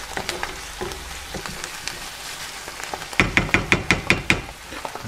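Dansak curry sauce with lentils sizzling in a pan over medium-high heat while being stirred, a steady close-up frying hiss broken by scraping utensil strokes, which turn into a quick regular series of louder scrapes near the end.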